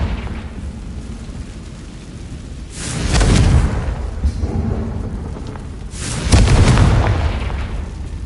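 A Confringo spell erupts in Hogwarts Legacy with two heavy, rumbling explosions a few seconds apart, each swelling loudly and then rolling away into a quieter background.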